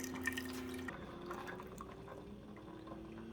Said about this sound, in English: that's going to take that descaling solution and run it through the K-Cup side